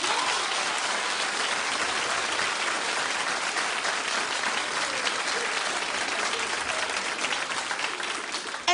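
A studio audience at a daytime talk show applauds steadily and loudly for the whole stretch, a dense, even wash of many hands with a faint crowd murmur beneath.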